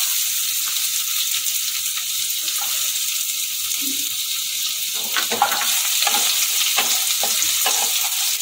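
Chopped garlic hits hot oil in a pan, a steady hiss that grows busier as the garlic is stirred with repeated scraping strokes, all close and with no talking.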